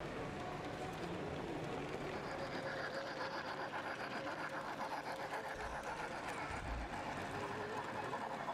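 Scale 0 model train with a CC65000 locomotive running on a club layout, a faint, steady rolling rumble with light rhythmic clicking, continuous throughout.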